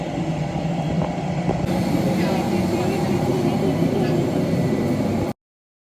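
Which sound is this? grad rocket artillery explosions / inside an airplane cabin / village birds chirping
inside an airplane cabin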